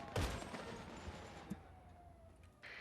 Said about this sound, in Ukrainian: Чую постріли